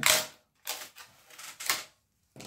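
Plastic clicks and snaps from someone working open a cheap Action mascara tube, four or five short bursts separated by brief silences, close and fairly loud.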